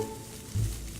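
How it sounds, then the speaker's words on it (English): A leafy bush rustles with a soft, steady hiss of leaves, then a brief, fuller swish of movement about halfway through, close by and moderately quiet. "that's the sound of a rustling bush"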